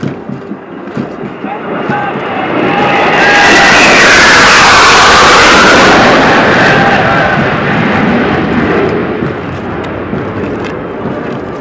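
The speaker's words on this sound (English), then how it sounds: "You can see 3 Su-30 aircrafts approaching the quarter deck." Three Su-30 fighter jets make a flypast at a military academy passing out parade, a powerful roar swelling to a loud peak mid-pass and then fading away.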